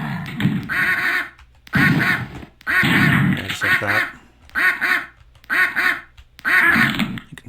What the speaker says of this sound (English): You can step on that duck, which was also taken from Killing Time, just for testing